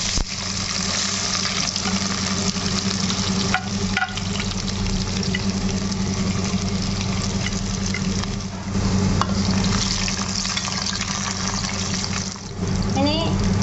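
Garlic and ginger sautéing in hot oil for a fish pickle, a steady broadband sizzle with occasional stirring scrapes, close and fairly loud throughout with no talking.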